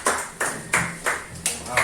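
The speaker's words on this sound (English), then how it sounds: "Let's clap our hands for Jesus" Several people clap their hands at a church prayer gathering in Lagos, producing five or six sharp, evenly spaced bursts of applause close by, with a ringing quality to each clap.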